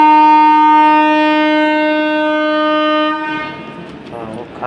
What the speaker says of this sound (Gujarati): ઓખા બાજુની ગાડી છે.